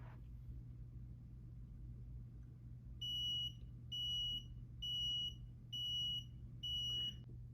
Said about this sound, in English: you'll see that the timer will beep when it's ready to go.